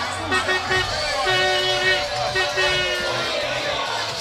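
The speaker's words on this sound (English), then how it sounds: "Stand up and cheer, you Axemen fans." Acadia Axemen fans celebrating a football championship win at Raymond Field in Wolfville, a steady crowd roar with a long horn-like tone running through it and an announcer speaking over the noise.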